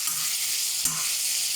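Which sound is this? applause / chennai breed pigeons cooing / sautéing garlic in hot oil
sautéing garlic in hot oil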